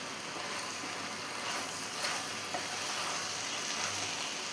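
Egg chilli fries in a pan and is stirred, giving a steady close sizzle with soft scraping of the stirring underneath.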